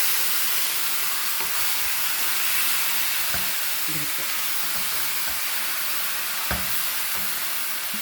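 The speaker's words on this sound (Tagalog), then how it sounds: "medyo prito-prituhan muna natin ng konti mga ka-angels" Pork frying in a pan for a Filipino pork caldereta, a loud, steady sizzle with faint clinks of stirring, and a short spoken word over it.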